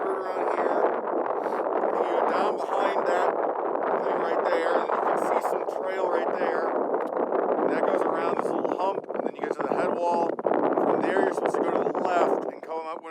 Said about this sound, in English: But as you can maybe hear, it's still really windy.